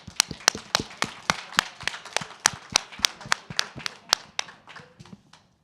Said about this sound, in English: Please give our panelists a warm round of applause